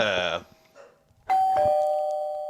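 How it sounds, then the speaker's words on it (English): A two-tone electronic doorbell chime rings once, clear and close, after a brief spoken sound and a moment of quiet. "Someone just rang your doorbell."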